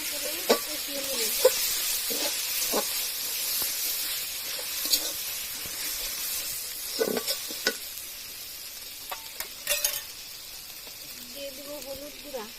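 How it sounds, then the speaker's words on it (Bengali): Ginger, garlic and cumin paste sautéing in a pan while chicken is cooked, a continuous sizzle broken by scraping spatula strokes and brief clinks, with soft speech in the background. "ভালো করে কষিয়ে নেব।"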